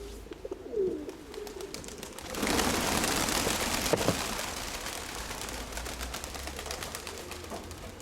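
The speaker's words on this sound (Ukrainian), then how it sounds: "голубка шикарна" A pigeon gives soft cooing calls outdoors, amid a steady hiss of background noise and scattered light taps, with no one speaking.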